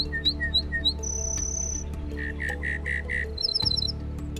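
Several birds sing and call in a natural setting: quick high chirps, a sustained whistled note, a run of repeated lower notes, and bursts of rapid trills, all layered over a steady low background hum.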